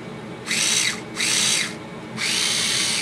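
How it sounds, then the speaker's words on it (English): A power drill whirs in three close, loud bursts, its motor whining up and down in pitch, with a low hum in between. "I'm going to have to drill in again"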